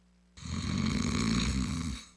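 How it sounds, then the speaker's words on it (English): A single long snore starts abruptly after near silence, loud and close, a rough rattling inhale that holds steadily for almost two seconds before fading. "Snoring. It's not just something to laugh about."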